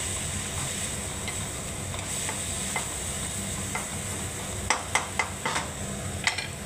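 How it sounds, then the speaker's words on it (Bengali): Radish, potato, two onions and green chilli sizzle steadily in a small amount of oil. A handful of sharp stirring clicks and scrapes sound near the end, with no talking. "এবারে এটাকে মূলো, আলু আর দুটো পেঁয়াজ বন্ধুরা আর কাঁচা লঙ্কা দিয়ে সামান্য পরিমাণে তেল দিয়েছি"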